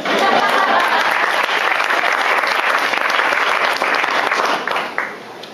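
Loud, sustained applause from an audience at a Disneyland Resort half marathon announcement event in Anaheim, welcoming a city council member, dense clapping throughout before tapering off near the end.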